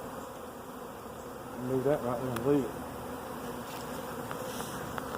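Honey bees buzz as a soft, steady hum around a hive outdoors, with someone speaking briefly over it.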